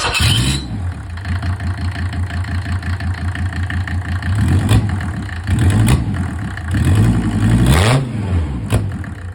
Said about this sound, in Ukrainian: даємо соляру, даємо охолодження, акумулятор і запускаємо